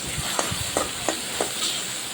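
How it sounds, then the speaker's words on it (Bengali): Garlic fries in a pan with a steady low sizzle. Several soft scraping stir strokes land at a fairly even rhythm, close up, with no talking. "রসুনটা দিয়ে ভালো করে নেড়ে নিচ্ছি"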